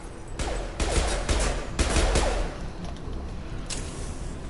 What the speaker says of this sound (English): Taking heavy fire.